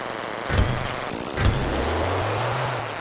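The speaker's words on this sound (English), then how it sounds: "I thought it sounded like something to do with the engine, but apparently you can now just like boost your way to things on the bike." A bike in the video game Dinkum gives two quick engine boosts, each a short rising whoosh, followed by a steady low motor hum.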